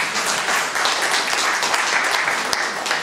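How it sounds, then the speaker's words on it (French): An audience claps at a book dedication, a steady wash of applause sustained throughout without letting up. "je vous demande d'applaudir très fort encore"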